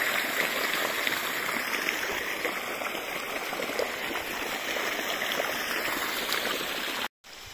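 Water gushes and splashes steadily from a Texmo Aquatex irrigation pump outlet in a field, a continuous broadband rush, close and moderately loud, cutting out briefly near the end.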